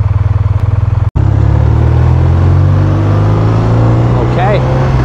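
A 2025 BMW R 12 S motorcycle accelerates on an open road, its engine rising loud and close after a gear change, with a brief cut in drive followed by a strong climbing roar and wind rush.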